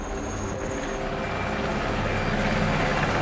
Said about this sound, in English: It's a helicopter-only operation.